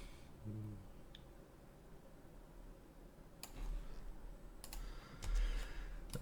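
Mouse clicks and keyboard key presses at a computer running Maya, a few quiet, sharp, scattered taps and clicks close to the microphone over a faint room hush, with no talking.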